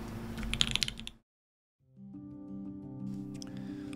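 A limited-edition ORI CLS-2/65 mechanical keyboard is typed on, giving crisp, firm clicks and clacks close to the microphone. A brief burst of keystrokes comes first, then a gap of silence, then more typing with a mechanical hum under it.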